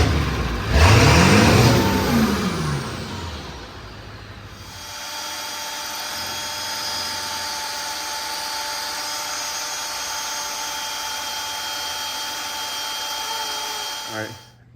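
A 7.3 Powerstroke diesel truck with a new exhaust revs up loud and close, then drops back to a steady idle drone that continues until a clunk near the end.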